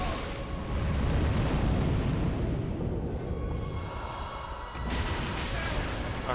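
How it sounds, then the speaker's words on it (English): Explosion in the Dark Souls 3 video game during a Lothric Castle boss fight, a loud, dense booming burst with rumbling debris that swells twice over the clip amid constant game noise, with a player talking over it. "Okay, so that's an explosion."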